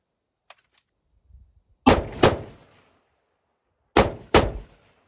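Two pairs of sharp rifle shots from a .223/.308 rifle fitted with a homemade machined muzzle brake compensator, each crack followed by a quick echo, loud and close, with faint clicks before the first pair.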